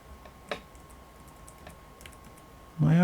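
A computer keyboard gives a few sparse, faint key clicks in a quiet room, one sharper tap early on, before a voice begins speaking at the very end.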